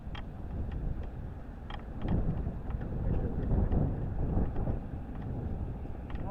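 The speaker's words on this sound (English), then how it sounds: "It's a little windy out here." Steady wind buffeting the microphone outdoors, a low rumbling roar that swells and eases without stopping.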